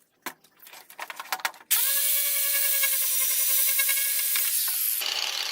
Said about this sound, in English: maybe grind everything else to a nice, beautiful state